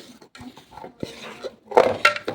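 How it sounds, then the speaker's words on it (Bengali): Lid lifted off a covered bowl of rising sweet bread dough after an hour's proof, bringing a few close clattering knocks and scrapes of dishware that peak near the end. "এবার ঢাকনাটা খুলে দেখাচ্ছি কতটা ফুলেছে"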